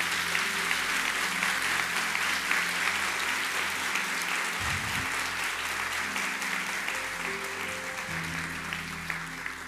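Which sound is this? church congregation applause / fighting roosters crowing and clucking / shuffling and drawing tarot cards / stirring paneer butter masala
church congregation applause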